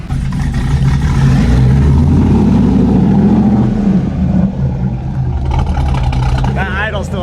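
A pickup truck with an aftermarket cam and deleted cylinder deactivation idles roughly in a field, a loud, close, uneven low engine rumble that loping surges and dips throughout, with someone talking over it near the end.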